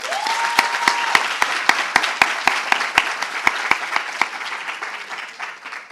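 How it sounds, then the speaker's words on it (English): An audience at a School of Medicine declaration ceremony breaks into steady applause for family and friends, a dense wash of clapping with sharp, evenly spaced rhythmic claps standing out on top, fading slightly toward the end. "Let's give family members and friends a round of applause."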